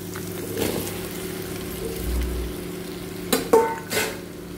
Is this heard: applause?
no